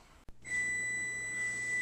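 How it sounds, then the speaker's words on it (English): A kitchen timer goes off while celery root fries roast in the oven, giving a steady, loud electronic beeping tone that starts after a brief pause and holds to the end. "There's my timer going off."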